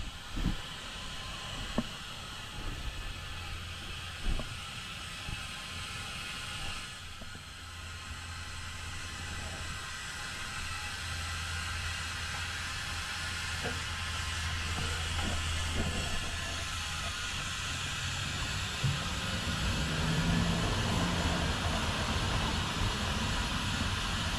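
A Gas One butane camping stove burner runs at full flame with a steady, broad roaring hiss that builds slightly in strength, plus a few faint clicks and knocks early on.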